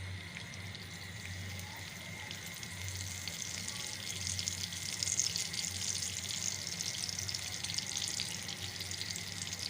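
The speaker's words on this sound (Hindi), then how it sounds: "इसमें हम कड़ी पत्ते को धोया हुआ है तो ये थोड़ा उड़ेगा।" Washed curry leaves spluttering in hot oil while cooking lauki raita, a steady close sizzle and crackle with a broad hiss that swells slightly midway, no voices.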